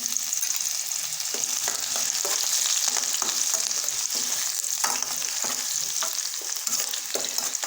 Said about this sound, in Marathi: मस्तपैकी कांदा गोल्डन ब्राउन होईपर्यंत भाजून घेऊत